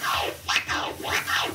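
Turntable scratching by a DJ doing two-click flare scratches, with repeated sweeping record-scratch strokes in a quick, rhythmic pattern, heard close and alone.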